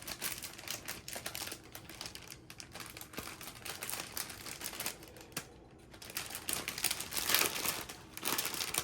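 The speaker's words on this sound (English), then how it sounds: "Let me open this bag. Sorry for the crinkling." A plastic bag holding a cross stitch product is opened and handled, giving irregular close crinkling and rustling that swells louder toward the end, with no talk.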